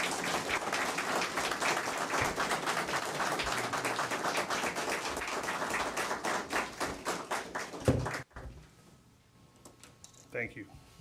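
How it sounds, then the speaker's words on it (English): A crowd at a fire department awards and recognition ceremony applauds in a steady burst that gradually thins into scattered claps. It stops abruptly after about eight seconds, leaving a quiet room with a brief voice. "give these folks a round of applause for their hard work every day"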